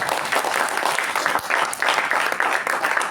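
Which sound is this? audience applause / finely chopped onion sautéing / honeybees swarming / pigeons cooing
audience applause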